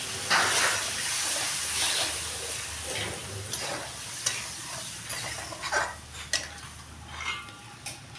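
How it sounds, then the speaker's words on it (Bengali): Masala spice paste for a katla fish curry fries in a pan with a splash of water, giving a soft steady sizzle broken by scraping stirs and a few light metallic clinks of a spatula against the pot. "এবার আমি পুরো মশলাটা একটু ভাজা ভাজা করে নেব"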